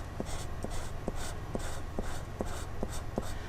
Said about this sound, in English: Let's see if I can do a double erase here.